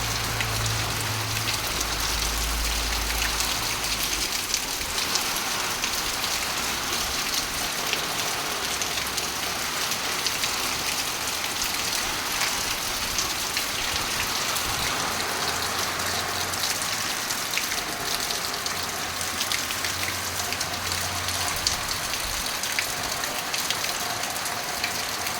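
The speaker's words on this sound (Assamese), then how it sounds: "কিন্তু শিল বৰষুণ নপৰিলে, খালি বৰষুণে পৰিলে।" Steady rain falls hard onto a surface, with a constant dense patter filling the space and a faint low engine hum in the background early on; no voices.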